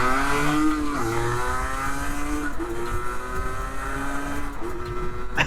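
A 1982 Honda MTX 50 two-stroke motorcycle engine drones steadily on the road, its pitch rising and falling through repeated gear changes, with traffic nearby.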